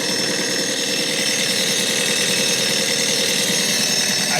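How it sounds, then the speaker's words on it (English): A mini excavator's engine runs steadily at a constant loud level, a dense continuous mechanical drone with a rapid rattling pulse, with no voices. "engine sounds fine."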